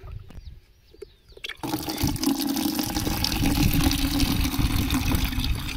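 Water gushes steadily from a tap fitted to a borewell storage tank, starting abruptly after a brief quiet moment and then running loud and continuous with a splashing, filling rush.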